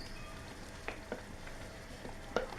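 Mustard and spices for kasundi sizzle quietly in hot oil during tempering, a soft continuous frying hiss with a few faint stirring scrapes, heard alone at low level.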